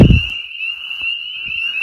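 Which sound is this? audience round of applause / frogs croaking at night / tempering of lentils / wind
frogs croaking at night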